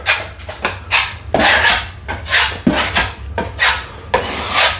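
A putty knife or trowel rasps repeatedly over filled seams on GoBoard shower board, a run of close, scraping strokes in steady rhythm with brief gaps between passes, and no talking.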